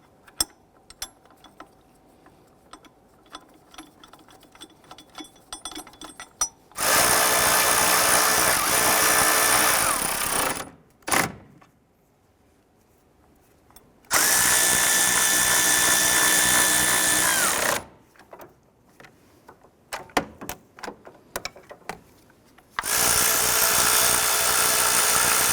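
A power ratchet drives the lower engine mount bolt on a 2012-2017 Toyota Camry in three loud, sustained whirring bursts, separated by quiet pauses with light clinks of tools and hardware.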